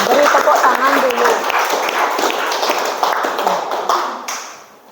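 A class applauds after a group's presentation in a teacher-training session, dense clapping from a room of people with voices mixed in, tapering off at the end.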